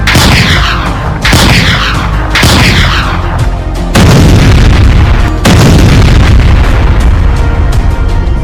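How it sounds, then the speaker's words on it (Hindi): Cartoon bombs and missiles go off in a rapid barrage of loud booms, six or seven heavy blasts in quick succession. Each impact leaves a rumbling tail that overlaps the next. "गुल्ली, बुल्ली और शॉन ने कई सारे बम दाग दिए एक साथ तुंग सहूरे पे"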